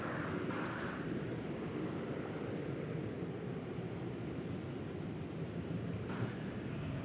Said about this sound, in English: And that's an American Airlines flight 887, 737-800.